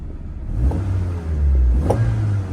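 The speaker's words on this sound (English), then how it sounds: "Little bit of an exhaust blow there, for sure." A 1990s Japanese coupe with 170,000 miles and an exhaust leak cranks and catches, settling into a low rumbling idle with a puffing, uneven exhaust note and a brief rev, close by.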